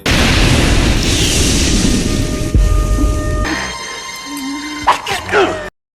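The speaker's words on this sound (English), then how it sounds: "A whole room filled with tanks of explodable liquid. I wonder what happens if I shoot it." Tanks of explosive liquid are shot in a video game. A loud, sustained roaring blast fills the first few seconds, then fades into quieter game sounds with brief tonal effects before cutting off.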